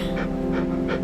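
A dog pants close up in a short burst, three quick breaths in steady rhythm, with no talk.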